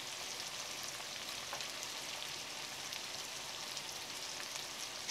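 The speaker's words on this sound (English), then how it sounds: "Blend everything together and fry for another minute." Curry powder, chili flakes and black pepper fry in a pot for a red grouse stew, a soft, even crackling sizzle held steady and close throughout, ending in a sudden sharp knock.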